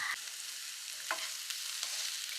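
Mustard seeds, onion and green chilli frying in a pan give a steady, fairly faint hiss with a few small pops and stirring scrapes.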